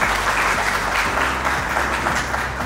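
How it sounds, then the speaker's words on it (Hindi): Loud, sustained audience applause fills the hall at an awards ceremony as guests are welcomed, a dense even wash of clapping holding steady from start to end with no voices standing out. "मैं चाहूँगा हमारे गेस्ट के लिए वो जोरदार तालियों से स्वागत करिए।"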